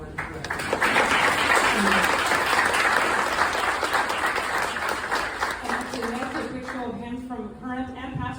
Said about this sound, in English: quick round of applause for the board of directors.